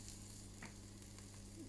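Whole spices frying in oil in a pan for beef phall, a faint, steady sizzle with a few soft crackles and stirring scrapes, close by and without talk.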